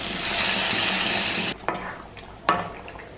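A tempering of mustard seeds and fried shallots goes into a koorkka (Chinese potato) curry: a loud sizzle cuts off abruptly, followed by a couple of sharp spoon-on-pan knocks and quieter stirring.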